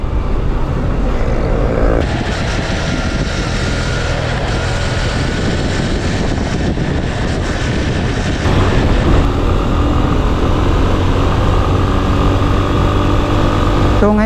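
Honda motorcycle fitted with a Racing Boy SP522 disc brake conversion, its engine droning loud and close as it slows during a brake test, the pitch shifting partway through.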